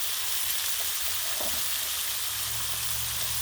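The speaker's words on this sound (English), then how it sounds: "Maybe I could heat one or two of them bacons in the grill and get some bacon grease going." Bacon sizzles on a Blackstone griddle outdoors in a steady, loud, broadband hiss of spitting grease, constant throughout, with a low rumble entering toward the end and no one speaking.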